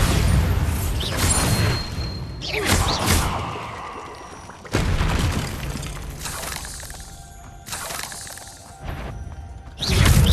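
The Confringo blasting spell in the Hogwarts Legacy video game goes off several times, each one a loud, close explosive boom with crashing debris that falls back to a rumble before the next blast.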